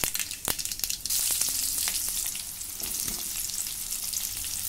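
Mustard seeds and dried chillies hit hot oil, giving a bright, crackling sizzle with sharp pops and spatula clicks at first, then settling into a steady fry with no talking.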